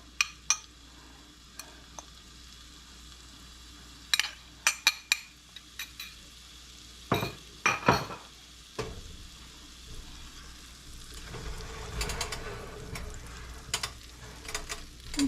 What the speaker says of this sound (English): I'm just going to saute this for about 2 or 3 minutes.